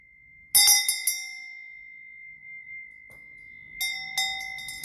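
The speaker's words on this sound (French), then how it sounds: "Mais la cloche est puissante." A loud bell rings out twice, each burst a bright metallic clang with a long sustained ring that decays between strikes, with a faint low murmur in the quiet gap.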